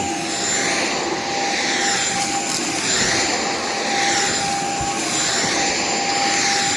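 A Shark Vertex vacuum cleaner running on carpet in carpet mode, with a loud, steady whooshing motor roar, a high whine and slowly pulsing airflow, close throughout.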